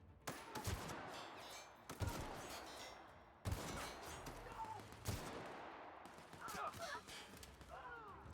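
Gunfire in the sci-fi video game The Outer Worlds, with several loud sharp bursts of shots spread across the clip alongside other game effects.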